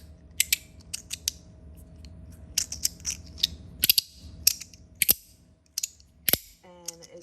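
A Compoform fidget slider is slid back and forth with a scratchy texture, giving sharp clicking snaps and gritty scrapes in an irregular rhythm, close and fairly quiet over a faint hum.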